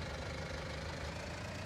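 Tractor engine idling in Farming Simulator 19 on the Sosnovka map, a steady, continuous low mechanical rumble with a slight knock, heard alone at close range.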